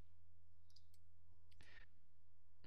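Computer mouse clicks, a few faint separate clicks and one slightly longer click burst over a quiet steady electrical hum.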